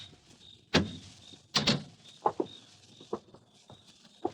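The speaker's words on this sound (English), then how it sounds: "Open the door, Ruth." Door being opened as a radio drama sound effect: a heavy clunk, then a sharper double knock of the latch a second later, followed by a few softer clicks and rattles in an otherwise quiet room.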